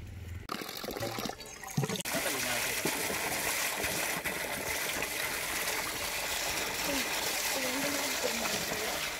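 Water splashes and trickles steadily as gutted fish are rinsed clean before cooking, a continuous close wash after a few sharp knocks, with talk over it.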